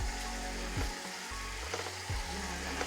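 Adele's sausage is frying together with hamburger meat for a spicy keto chili, a constant close sizzle with low rumbling stirs and a couple of soft knocks against the pan. No one is talking.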